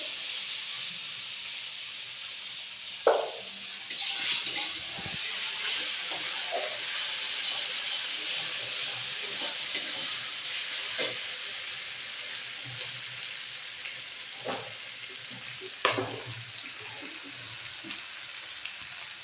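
Ginger garlic paste sizzles steadily in hot oil in a pan, a continuous close hiss with a few sharp clinks and stirring scrapes scattered throughout, no voices.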